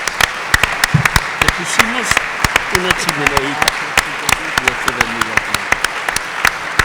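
Audience applause at a magazine's 34th anniversary event, welcoming a speaker: sharp, fairly close individual claps in an uneven rhythm, with someone talking over them.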